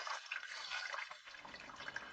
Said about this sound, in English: Here I'm already filtering the acid.